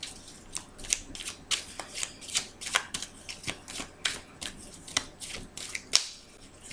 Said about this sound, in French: je bats devant vous les cartes pour faire passer bien sûr les énergies